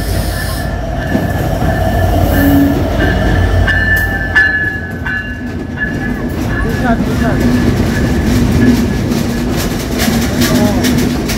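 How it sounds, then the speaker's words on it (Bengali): The Chitra Express intercity passenger train rolls into Alamdanga station on the Jamuna Bridge route toward Dhaka, loud and close, with steady rumbling wheels, metallic squeals and clicking over the rails, and voices underneath. "যমুনা সেতু হয়ে ঢাকা অভিমুখী আন্তনগর 763 নং আপ চিত্রা এক্সপ্রেস আলমডাঙ্গা প্রবেশ করছে 35 মিনিট বিলম্বে।"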